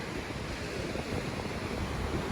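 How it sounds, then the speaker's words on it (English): Strong wind buffets the microphone outdoors near a beach, a steady loud roar with low rumbling gusts throughout and no speech. "It's still very windy today."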